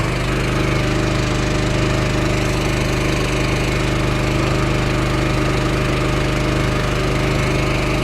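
Self-propelled round bale tube wrapper driving and turning, its engine droning loudly and steadily at close range with a constant low hum and no talk.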